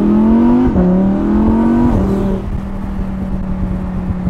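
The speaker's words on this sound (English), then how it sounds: "The exhaust sounds the same. The crackles don't sound as loud." A Lamborghini Huracan Spyder exhaust revs loud and close, with a steady engine drone rising in pitch in two pulls and dropping back after each, then settling to a lower idle-like hum.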